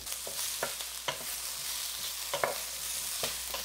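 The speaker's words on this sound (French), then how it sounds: "Ensuite, on va mettre les poivrons et les oignons. On va cuire ça pendant environ 1 minute et demie." Bell peppers and onions stir-fried with garlic and ginger in a pan for cashew chicken, a steady broadband sizzle with periodic scraping stirs, close and alone.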